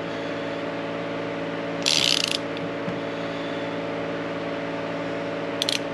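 A big wrench turns on a fitting in a 75-year-old cattle barn, giving two brief metallic ratcheting bursts over a steady background hum, with no talking.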